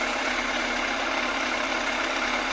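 A Yamaha FZR1000 EXUP motorcycle engine, its carburettors being balanced, holds a steady close idle with a smooth continuous drone and no clear rev rise.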